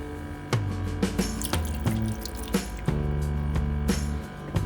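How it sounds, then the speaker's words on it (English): Water splashes and trickles into an Instant Pot, a steady pour broken by a few sharp drips and clinks, close and fairly quiet. "You want to add half a cup of water to your Instant Pot."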